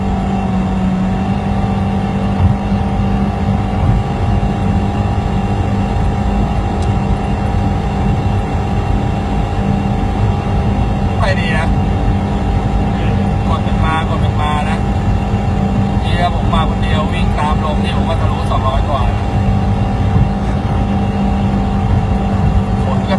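A Toyota Yaris 1.2 fitted with an AZC turbo engine drones and accelerates steadily from inside the cabin, a constant loud engine hum while a person talks over it throughout.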